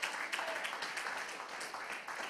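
Steady, dense applause from a crowd, continuous hand clapping filling the whole stretch at a moderate, slightly distant level.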